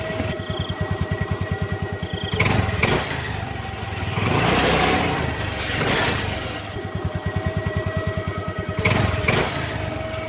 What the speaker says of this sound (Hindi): फिर राजू बाइक चलाता हुआ जंगल के रास्ते अपने घर जाने लगता है।